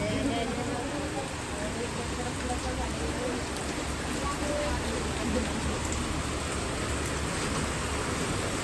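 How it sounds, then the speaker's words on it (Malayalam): Heavy rain falling through a forest, a dense, even hiss that stays loud and unbroken from start to finish with no pauses or distinct drops standing out. "നല്ല മഴയല്ലേ"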